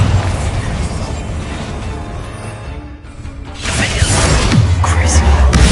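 Loud blasting spell explosion from the Hogwarts Legacy video game, a dense crashing burst that swells after a brief dip and rumbles on with heavy low-end debris and clatter.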